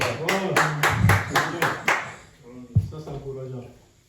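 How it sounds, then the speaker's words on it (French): Several hands clap briefly at an event, a quick run of sharp rhythmic claps over the first two seconds, with a voice speaking over and after them and a couple of scattered claps later. "Applaudissez, c'est important."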